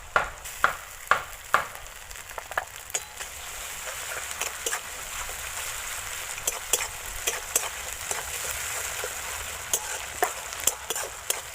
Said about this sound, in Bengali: পেঁয়াজটা ভাজা ভাজা হয়ে গেছে এবারে রসুন দিয়ে দিচ্ছি রসুন বাটা আদা